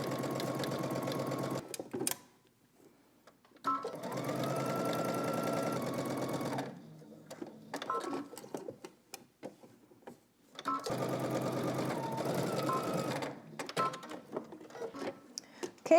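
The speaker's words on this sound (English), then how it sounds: "let's head to the sewing machine. We're gonna stitch using 5/8 of an inch seam allowance" A home sewing machine stitching the sides and top of a dress collar at a 5/8-inch seam allowance, running in two long whirring bursts with short clicking stops and pauses between, close and clear with no talking.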